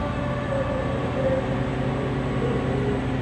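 A rooftop make-up air unit with a direct-fired burner runs its blower, a steady, dense mechanical hum and rumble with no variation, heard close and alone.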